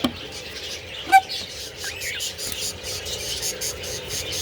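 Texas clearbody parakeet chicks in a nest box give high thin chirps and squeaks, close and soft, over a low background hum, with someone speaking quietly.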